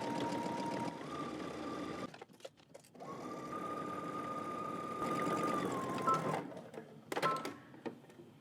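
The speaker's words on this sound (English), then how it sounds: "I'm gonna be stitching close to where that little ridge is." A sewing machine runs close, stitching a double-fold hem in two steady humming bursts with a brief pause between, then stops and starts with a few clicks near the end, no speech.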